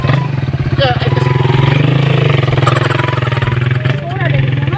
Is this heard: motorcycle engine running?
yes